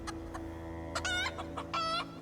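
Chickens cluck in short bursts in the video game Project Zomboid, with a couple of longer, rising squawks, over a steady low background hum.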